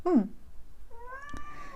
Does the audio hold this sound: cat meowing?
yes